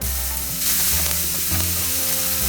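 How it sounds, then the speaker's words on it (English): Onion, green chili, crushed coriander and cumin seeds fry in a pan, giving a steady, loud close sizzle throughout with a few stirring scrapes and no talk. "We will fry it 3-4 minutes only. Just half fry the onion."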